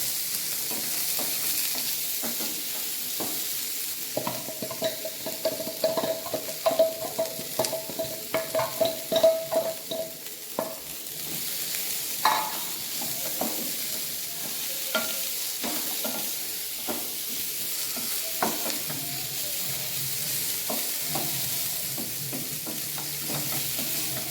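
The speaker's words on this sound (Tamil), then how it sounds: "தேங்காய் பூவை நம்ம ஆட் பண்ண போகிறோம். அதையும் போட்டுக்கலாம், போட்டு வதக்கிக்கலாம்" Grated coconut being sautéed in a pan for a chickpea kadalai curry, with a steady close sizzle under repeated scraping and stirring strokes that grow busier and louder partway through before settling back.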